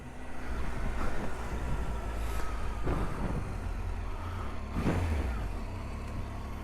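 A 2018 Triumph Tiger 800 motorcycle out on a short test ride, its engine a low, continuous rumble with a few swells as it pulls along the road.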